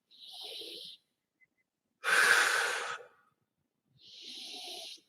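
Slow, easy breathing in a yoga pose, heard as three close, airy breaths about two seconds apart, a soft inhale, a louder, fuller exhale, then another soft inhale, with silence between them.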